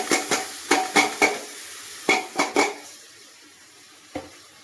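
Chopped onion, tomato and green chili with ginger-garlic paste hit a hot pan for chicken stew, giving bursts of sizzling and sharp stirring clatter in quick clusters, then quieter frying with one last scrape.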